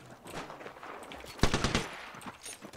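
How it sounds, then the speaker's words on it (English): Enemy gunfire in the battle royale game Apex Legends, a rapid burst of automatic shots rattling out in quick succession, loud and near, amid scattered quieter shots and shuffling sounds. "The enemies are shooting at me."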